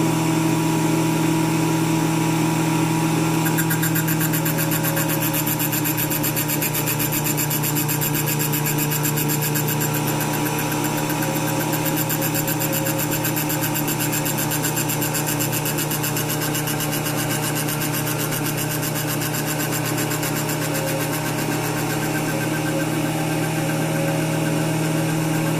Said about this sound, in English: So you want to kind of just walk the grinder slowly into this thing.